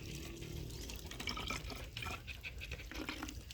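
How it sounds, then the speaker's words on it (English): Coconut water is poured from an opened coconut into a bottle, giving a faint, uneven trickle with small splashes and drips at close range, with no voices. "pour it as best we can into the bottle."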